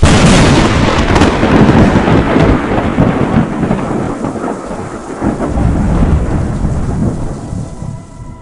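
Loud, rolling thunder from lightning strikes during a storm, with a sharp crack giving way to a long, rumbling decay over several seconds, rain hissing steadily underneath.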